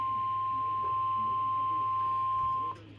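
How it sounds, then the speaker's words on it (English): A National Weather Service warning alarm tone, sounded for a test ahead of a Chicago blizzard warning broadcast, holds as one loud, steady unbroken pitch for nearly three seconds before cutting off. "The preceding was a test of the National Weather Service warning alarm tone"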